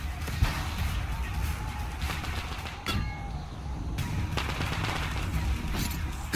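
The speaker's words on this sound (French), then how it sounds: "Je me prends des balles, mais je le vis bien." Gunfire in the video game Metro Exodus striking the player, a sustained rattle of shots with a couple of sharp impacts, heard close and loud, with someone speaking briefly over the action.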